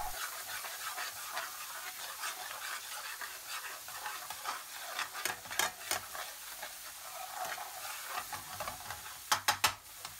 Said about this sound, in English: Stir in well and cook for 1 to 2 minutes to develop the flavours.